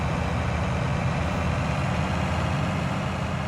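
Tractor engine in Farming Simulator 19 running steadily, a continuous low diesel rumble and drone held at an even level throughout, close and alone with no talk.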